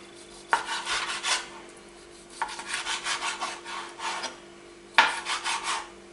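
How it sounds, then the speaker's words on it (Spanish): Knife cutting roasted peppers into small pieces for a salad, producing a few rhythmic rasping strokes against a wooden board, close and fairly quiet, with brief pauses between bursts and no talk. "Y la voy a cortar a trocitos."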